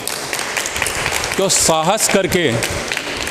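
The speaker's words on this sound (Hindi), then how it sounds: "इनके लिए बहुत ज़बरदस्त वाली तालियां होनी चाहिए।" Audience applause at a public speaking and motivational seminar in Bilaspur, a steady wash of clapping with a brief spoken word over it.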